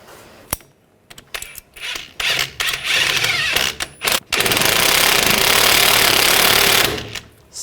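A bolt on a 2014-2018 GMC Sierra 1500 front lower control arm is run down with a power tool, in short rattling bursts that give way to one sustained loud hammering rattle lasting several seconds.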